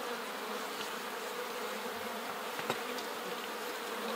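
A thick, steady hum of honeybees buzzing around an open hive in good shape, close and continuous, with a few individual bees passing nearer the ear; no talking.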